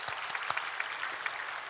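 A church congregation applauds the choir, its conductor, the pianist and the organist, with soft, steady clapping from many hands and a few sharper individual claps standing out, fairly distant and quiet.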